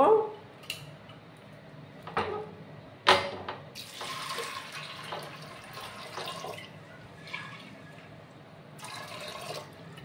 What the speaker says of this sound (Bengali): জলটা এবার দিয়ে দেব।